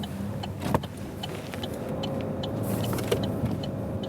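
Opel Insignia GSI driving on the road, its engine and tyre noise building steadily as it accelerates, with a few clicks and thumps from inside the cabin.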